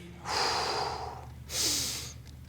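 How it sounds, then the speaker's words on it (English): Steady breathing during a stretching hold in a workout: two slow, close, airy exhalations, the second shorter, with no talking. "Nice steady breathing."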